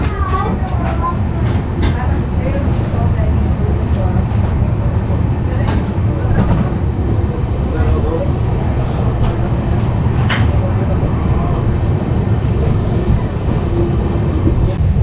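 Avantika Express train pulling out of a station on the Mumbai to Indore route, a steady loud rumble and rattle of the carriage with clanks and squeals, heard from on board under a person's voice.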